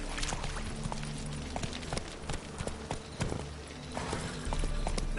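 Hoofbeats from Roach, a horse in a video game, clip-clop steadily in an irregular walking rhythm at moderate distance, with faint background ambience and no clear speech.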